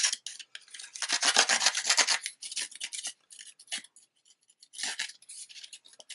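A card topper gets its edges scuffed with quick, dry rasping strokes in close, soft bursts, pausing briefly and starting again.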